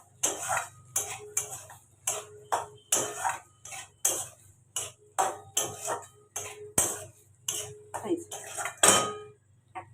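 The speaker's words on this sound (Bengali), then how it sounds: "আমি এটাকে ভালোভাবে নেড়ে চেড়ে রান্না করে নেব" A spatula knocks and scrapes rhythmically against a pan while an egg and eggplant mixture is stirred, about twenty sharp metallic taps at a steady pace over a faint low hum, with no talking.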